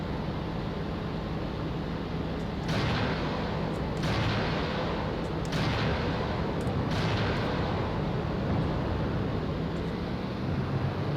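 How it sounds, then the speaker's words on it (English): Rockets streak out in a series of sharp launches from an aircraft in the IL-2 flight sim, aimed at artillery near Caen. Four or five bright bursts ride over a steady, dense engine roar with no talking. "Let's see if these rockets actually do what they're supposed to do."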